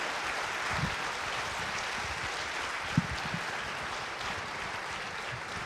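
A conference audience claps at the close of a talk, a soft steady wash of applause heard from a distance with no voices over it.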